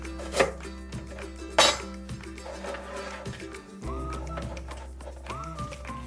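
A knife chops kimchi and juicy ingredients on a cutting board with a leak-proof catch tray. Irregular close, crisp thuds and clacks go on steadily, with a few louder hits and some light clatter.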